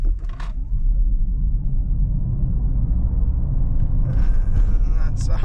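A 2024 Lotus Eletre accelerates hard from 0 to 100 km/h, heard from inside as a loud, steady low rumble of road and drivetrain noise that builds without a break.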